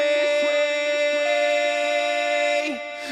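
A sustained sung note smeared by long echoing repeats, a big spacious wash that trails off and swells again near the end, with no talking.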